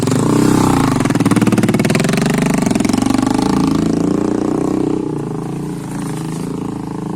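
Motorcycle engine runs close by with a loud, rapid, steady throb that eases slightly in level partway through, on a trip to Niralapunji.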